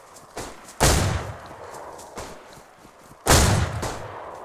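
Gunfire in the video game DayZ on the Namalsk map: two heavy, booming shots about two and a half seconds apart, with softer distant shots between them, heard without any talk.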